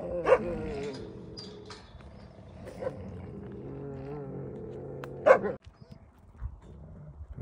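Several wolfdogs bark, yip and growl in scattered bursts, with sharper barks standing out near the end over a muffled background.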